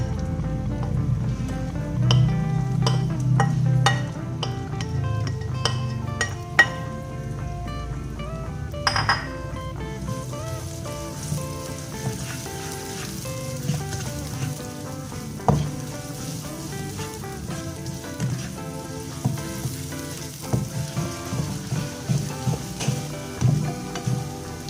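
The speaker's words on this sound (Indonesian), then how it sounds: "Tumis bawang bombay dan bawang putih." Oil sizzles steadily in a pan as onion and garlic are sautéed and stirred, with occasional clinks and scrapes of a utensil against the cookware.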